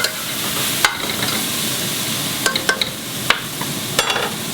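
Onions and carrot sautéing in olive oil in a pot, a steady soft sizzle with a few sharp clicks of a spoon stirring against the pot.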